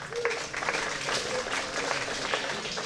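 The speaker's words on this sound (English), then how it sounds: "give yourselves a round of applause" An audience at an indoor Chicago mayoral candidate forum applauds itself with a steady wash of clapping, individual claps popping out and a faint tonal murmur beneath.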